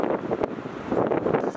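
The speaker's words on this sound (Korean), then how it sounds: "한 9m 정도 바람이 불고 있거든요." Strong gusty wind of about 9 m/s buffets the microphone outdoors during a DJI Phantom 4 drone test flight, a loud, uneven rumbling roar that rises and falls with no voices.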